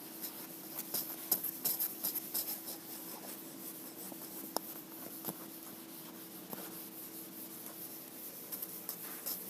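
A classroom board is erased during a physics problem session, a continuous soft rubbing and scraping with uneven strokes over a faint steady hum, close by and without talk.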